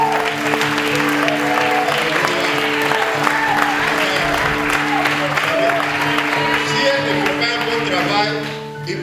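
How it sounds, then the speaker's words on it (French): A church congregation applauds in sustained, steady clapping while a voice speaks over it and music plays underneath, fading slightly at the end. "Il faut acclamer."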